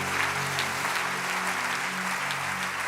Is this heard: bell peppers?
no